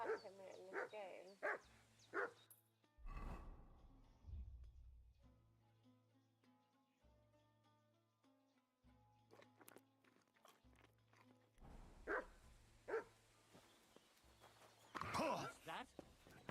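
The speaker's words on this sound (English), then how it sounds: "Hey, what is it with wild dogs and attacking me in this game?" Wild dogs in the video game Kingdom Come: Deliverance II, a few growls and barks scattered among game music, with a player talking over parts of it.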